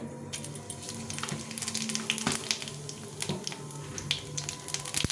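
Dried red chillies and cumin seeds frying in hot oil, a steady close crackling sizzle with scattered sharp pops throughout, no voices.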